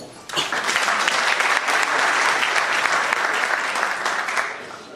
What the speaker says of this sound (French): Je ferai applaudir une dernière fois pour M. Jérôme Raymond